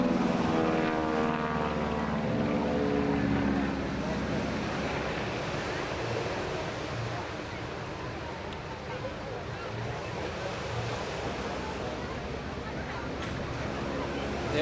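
Aircraft flying display manoeuvres, including tight turns and a figure of eight, at the English Riviera Airshow, a distant droning engine rising and fading beneath wind and surf, with a commentator talking over it.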